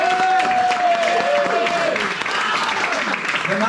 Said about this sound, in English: Give the fantastic bar staff a round of applause.